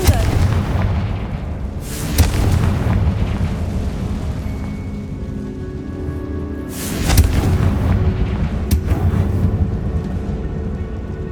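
Confringo blasting curse explosions in the Hogwarts Legacy video game, two loud booming blasts several seconds apart over a dense, rumbling game soundscape.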